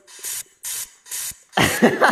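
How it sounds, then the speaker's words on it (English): A spray can tool in computer painting software gives three short airy hiss bursts in an even rhythm, followed by a louder, rougher spray burst, all close and without talk. "the further you move away, the larger the spray will be"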